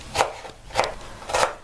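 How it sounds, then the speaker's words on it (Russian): A knife slicing bell pepper into strips on a board, three distinct cutting strokes at an even pace, close and moderately loud, with no talk. "Также соломкой нарезаем перчик."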